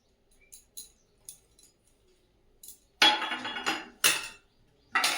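A metal lid settles onto a pot of chicken curry (doi chicken) with a few light clinks, then louder clattering knocks as it is set in place, close and sharp against near silence.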